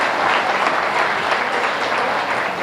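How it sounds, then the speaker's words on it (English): Audience at a junior swine show claps for the winners of a hog class, a dense, steady burst of applause filling the whole moment with no talk over it. "Let's give them a big cheer."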